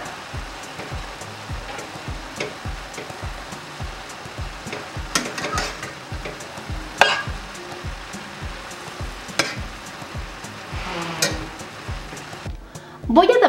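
Tomato is stirred into picadillo with ground beef in a pan, a steady close sizzle under rhythmic scraping strokes, with a few louder clanks and a louder burst at the end.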